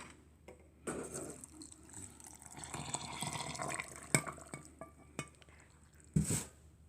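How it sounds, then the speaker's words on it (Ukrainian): Very hot rainwater pours steadily into a container for several seconds, with splashing and a few sharp knocks near the end. "Зараз я буду заливати водою. Вона дуже гаряча, дуже гаряча дощова вода."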